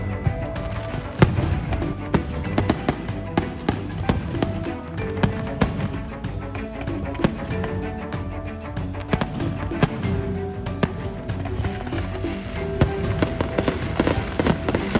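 New Year's fireworks in Porto Santo crackle and bang continuously, with rapid sharp pops and booms layered over a noisy crowd ambience.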